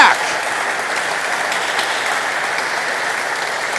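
Dense crowd applause at the US Open of handball men's four-wall final, a sustained wash of clapping filling the arena after a big point, even and steady throughout.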